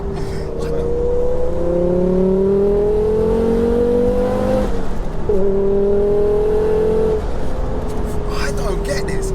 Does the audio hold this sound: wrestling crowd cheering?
no